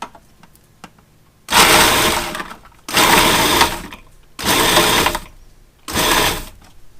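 Frozen cranberries being coarsely chopped for relish in a food processor, four loud close bursts of whirring pulses with short quiet gaps between them.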